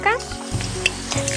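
Dry red chillies crackle in hot mustard oil as a tempering, a brisk sizzle with scattered pops, overlaid by a low steady hum and a brief tonal sound at the start.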